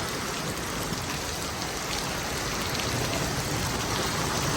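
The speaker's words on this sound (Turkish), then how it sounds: "Çok çok çok çok çok yağmur yağıyor. Çok şiddetli gerçekten." Heavy, intense rain pours steadily outdoors on a very cold day, a dense, continuous hiss and patter that stays loud and even throughout with no voices.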